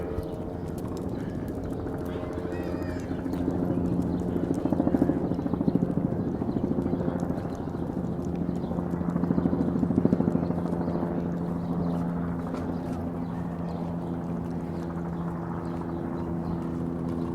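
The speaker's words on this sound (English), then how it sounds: "Helicopter overhead." A steady, droning helicopter rotor hum from overhead on a New York City street fills the whole stretch, swelling slightly at times, with distant voices under it.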